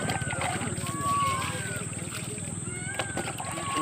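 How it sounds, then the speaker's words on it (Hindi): Water poured gently onto a newly planted banyan sapling, a soft continuous sloshing trickle heard close up beneath steady talking, with faint outdoor wind. "इस प्रकार से इसमें पानी डाल दें आराम से"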